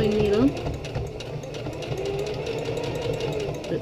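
Sewing machine stitching fabric for a mask or medical gown, a steady rapid mechanical whirr close up, with a person speaking briefly at the start.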